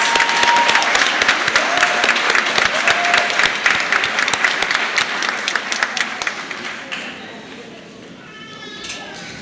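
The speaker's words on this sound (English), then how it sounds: "Family and friends, please give these Sigma members a round of applause." Audience applause at a nursing graduation ceremony, a dense, loud wash of many hands clapping that holds steady before thinning and fading toward the end, with a few voices and cheers mixed in.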